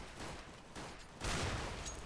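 Gunfire in a competitive Counter-Strike: Global Offensive match on Dust II, a dense burst of rapid shots that swells suddenly louder about halfway through, with no voices.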